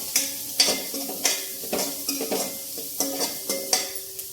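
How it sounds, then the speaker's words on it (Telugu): Sliced onions fry in a pan, with a soft steady sizzle under regular spatula scrapes and taps that come in a quick, even stirring rhythm, close and clear with no voices. "ఉల్లిపాయలు కొంచెం వేగనివ్వాలి."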